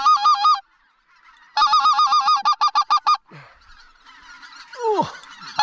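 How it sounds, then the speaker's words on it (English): Geese honk loudly and close by at a goose hunting blind in Alberta, in a fast run of repeated, evenly spaced honks, then scattered calls and a few lower squawks. "We got lots of geese back behind us"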